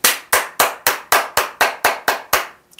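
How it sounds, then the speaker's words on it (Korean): Nine sharp, evenly spaced claps from a single person's hands, loud and close, each strike ringing briefly before the next, with no talk over them. "이거는 박수 쳐야 돼."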